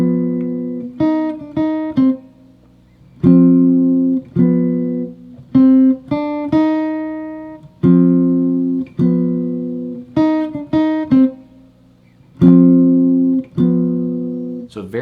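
A clean jazz guitar alternates short melodic runs with plucked chord stabs, played solo in distinct sectioned phrases with brief gaps between them.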